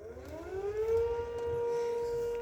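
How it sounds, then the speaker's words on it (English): A 10V civil defense siren winds up, its tone rising and then holding a steady wail at moderate distance over a low outdoor background. "Wait, is siren shutting down?"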